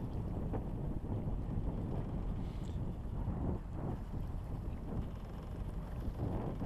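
A sailboat motoring gently under engine power in wind, giving a steady, dense low rumble with constant wind buffeting on the microphone throughout.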